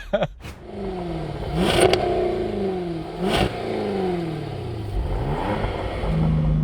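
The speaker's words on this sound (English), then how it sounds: "Get your revs up, Tiff, get your revs up." A sports car engine, a BMW M2 CS or Jaguar F-Type Coupe, revs hard and close several times before a drag race start, pitch climbing and dropping between gear changes, with mechanical clatter.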